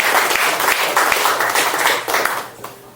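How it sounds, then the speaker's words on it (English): Crowd applause from members at a BNI Decatur business networking chapter meeting in Georgia: a dense, steady wash of many hands clapping close by that fades out near the end. "So give yourselves a round of applause."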